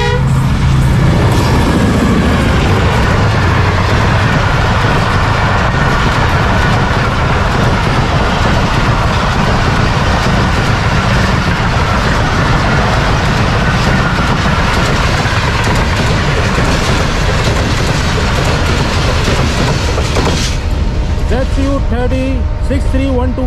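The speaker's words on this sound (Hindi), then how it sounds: "ये जबरदस्त एक्शन था, बड़ी जबरदस्त ट्रेन का साउंड था।" The Pak Business Express train roars loudly through a railway station, a continuous heavy rumble with wheel clatter near the end and a brief horn-like tone.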